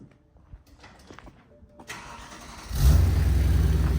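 A BMW M3 with an aftermarket exhaust cranks and fires up near the end, settling into a loud, steady idle after a quiet stretch of faint background shuffling.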